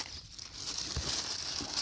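A young guava on the tree being wrapped in paper and then a plastic bag makes soft, close crinkling and rustling, with a few brief louder crackles over under two seconds.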